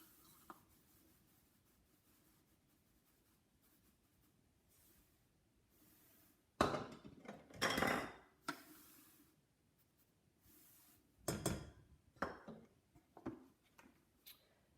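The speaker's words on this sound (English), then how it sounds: "I'm going to start measuring that out into the saucepan" Sugar is measured into a saucepan for a chocolate meringue pie. A long quiet stretch gives way to two bursts of gritty rustling and scraping close by.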